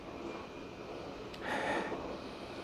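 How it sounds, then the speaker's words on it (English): A single quiet sniff of Brooklyn Brewery Crisp Pilsner beer, a short breathy inhale close to the microphone, over a faint steady background hum. "let's take a sniff of the aroma."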